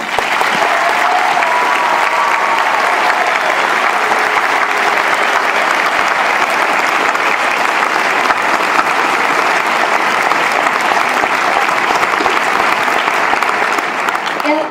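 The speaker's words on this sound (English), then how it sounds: "I'd like everyone to give them a big thank you and a round of applause." Sustained loud applause from a large audience at a white coat ceremony honoring the faculty, a dense, even roar of clapping that continues unbroken for about fifteen seconds, with crowd noise mixed in.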